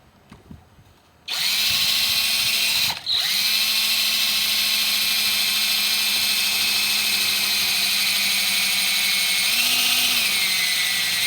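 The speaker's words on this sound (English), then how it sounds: "You can tell by the drill that" A power drill drives a screw through thin sheet metal while mounting a Max Air fan, a loud sustained high whine running steadily after a short quiet start, with a brief dip near the third second.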